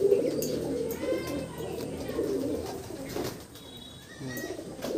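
A domestic pigeon with a slightly open tail coos in low, rolling phrases close by, with a few faint higher chirps from other birds in the background and no talking.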